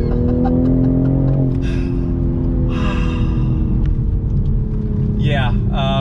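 A 2020 Toyota Supra's engine drones steadily while driving on a winding road, its pitch easing after a downshift, with breathy exclamations and voices over the motor.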